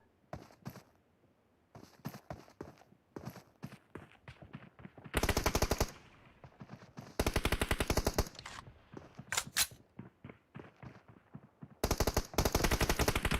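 Automatic weapon fire in a PUBG Mobile team deathmatch, with rapid loud bursts of shots alternating with quieter stretches of single shots and footsteps, several long sustained volleys near the listener.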